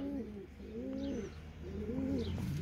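Pigeons in a coop give repeated soft, low throaty coos in rolling phrases, close by, with faint background hiss and occasional higher chirps.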